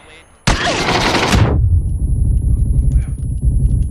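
A sustained burst of rapid gunfire rips out in a shooter video game, loud and close for about a second, then cuts to low rumbling ambience with faint distant activity.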